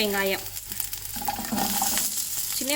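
Ginger, garlic and small onions sauté in oil for a mushroom gravy, producing a steady close sizzle with stirring scrapes, brief tonal voice-like fragments over it.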